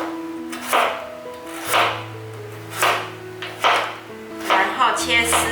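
A knife cuts a peeled red carrot into thin strips on a board, making about half a dozen distinct, evenly spaced thuds with a quicker cluster near the end, over steady background music.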